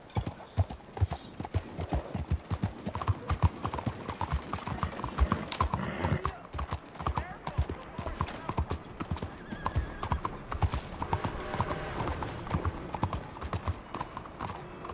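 Steady, rapid clip-clop of horse hooves at a trot in Red Dead Redemption 2, fairly close and continuous, with a brief whinny partway through.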